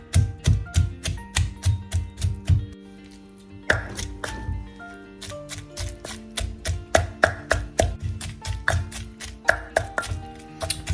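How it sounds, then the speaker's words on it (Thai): Chillies are pounded for a Thai canned-tuna chili paste, giving a close series of rhythmic, thudding strikes in quick bursts, with one short pause before the pounding resumes. "ก็ตำพริกเลยนะคะ"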